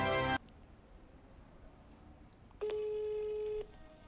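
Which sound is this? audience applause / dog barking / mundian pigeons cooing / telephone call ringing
telephone call ringing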